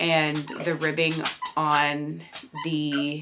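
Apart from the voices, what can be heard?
dog whining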